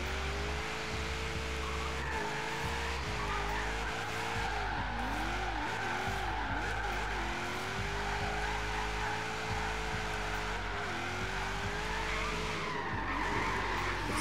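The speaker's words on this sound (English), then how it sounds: "It's like the easiest car I've ever built to slide." Tire squeal and skidding from a V8 Boss Nissan S14 sliding in Forza Horizon 3, a long continuous wavering screech over steady engine drone, with no talk.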